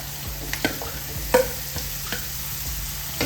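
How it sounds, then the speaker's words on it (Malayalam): Chopped pumpkin frying in a pot for an old-style Kerala meal, with steady sizzling beneath sharp, scattered scrapes and knocks of a spoon stirring, close and alone. "ഇനി ഇതിലോട്ട് നമ്മൾ അരിഞ്ഞു വെച്ചേക്കുന്ന മത്തങ്ങയില്ലേ അതിട്ട് കൊടുക്കുക"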